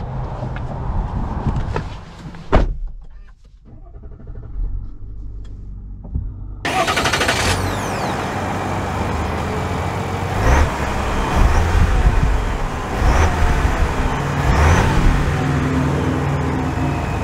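A 2023 Chevy Tahoe Premier with the Duramax diesel starts up with a sharp crank, then settles into a steady, loud engine drone with road and cabin rumble as it drives off, no talk.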